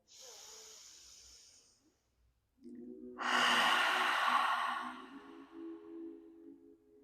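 A deep communal inhale and full exhale in a live vinyasa yoga class, with a soft airy breath first, a short pause, and then a louder, longer sighing exhale close to the microphone.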